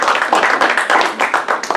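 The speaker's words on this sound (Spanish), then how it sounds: "Fuertes aplausos, por favor." A crowd claps loudly and steadily, a dense wash of applause throughout.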